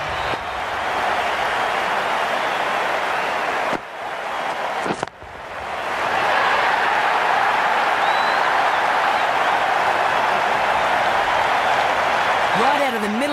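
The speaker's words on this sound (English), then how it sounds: "The crowd on their feet." Stadium crowd in the Cricket 19 video game cheering after a six in an India vs England T20 match, a steady, loud roar of voices and applause that dips briefly around a short cut, then swells back and holds.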